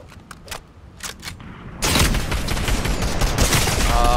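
Fortnite gunfire: a few sharp, separate shots ring out near the start, then a loud, dense barrage of rapid fire and impacts takes over for the remaining seconds.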